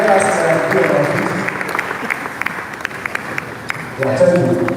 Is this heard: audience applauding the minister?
yes